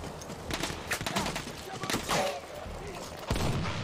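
Gunfire crackles in a World War I battle in Battlefield 1, scattered shots and short bursts at mid distance, mixed with battle noise and a voice talking over it.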